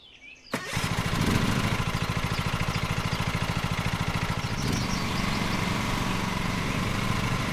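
A riding lawn mower in Lawn Mowing Simulator cranks to life with a sharp start, then settles into a steady, loud chugging idle that runs on close and continuous.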